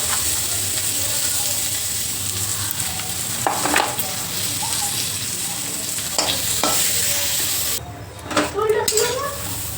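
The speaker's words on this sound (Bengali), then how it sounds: "সজনে ডাঁটাটা নুন হলুদ দিয়ে ভেজে নেব" Drumstick stems fry in a pan with salt and turmeric, giving a steady close sizzle with occasional stirring clatter and brief bursts of crackle, a quiet voice heard at times.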